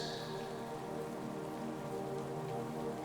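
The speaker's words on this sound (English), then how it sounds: "From here, you can watch the rain falling across the forest." Steady rain falls on forest leaves and through the trees, a soft, even patter that fills the whole stretch with no voices.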